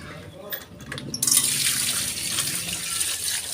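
Tap water runs into a strainer of sandy strawberries and vegetables being washed, a steady splashing rush that swells partway through, close by, with someone talking over it.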